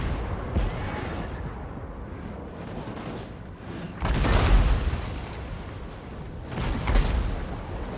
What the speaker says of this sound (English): all these cannons are basically just hitting the first target they had in their sights